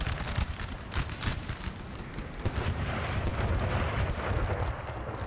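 Howitzer artillery fire in a Napoleon: Total War 4v4 battle, a dense rolling barrage of booming shots and rumbling blasts that continues without pause.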